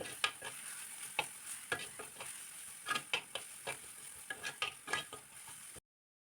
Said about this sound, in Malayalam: ഉണക്കമുളകിൻ്റെ പച്ച ടേസ്റ്റൊക്കെ ഒന്ന് മാറി കിട്ടുന്നിടം വരെ ഇളക്കി കൊടുക്കാം